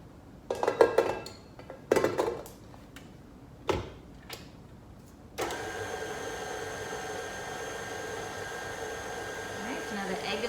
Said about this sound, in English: Alright, so now the egg is all mixed in there.